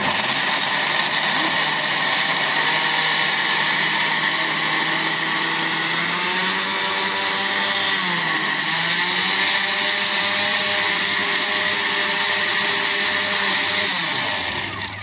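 A kitchen blender grinds chopped mango with a little water, a loud continuous motor whine that runs steadily for the whole stretch, its pitch dipping briefly midway before easing off at the end.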